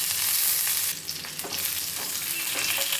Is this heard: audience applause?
no